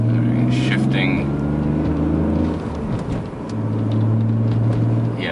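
BMW E46 car engine drones from inside the cabin as gears shift, revs dipping and steadying again mid-clip with the tone falling and rising; a voice talks over it.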